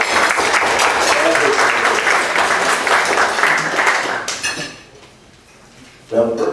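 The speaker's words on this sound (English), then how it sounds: "Let's have a round of applause for all the" Loud applause from a room full of meeting attendees rolls on for about four seconds, then tapers off into near quiet before a voice starts speaking.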